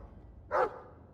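A single short bark from a dog in the video game Dragon Age 2, clear and fairly close against a quiet background hum.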